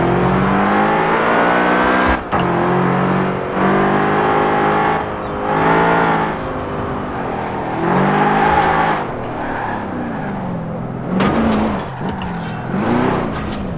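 A BMW M5 in Forza Horizon 4 launches off the line, its engine revving loudly and repeatedly, climbing in pitch with each gear and dropping briefly at the shifts, up close and with no talk over it.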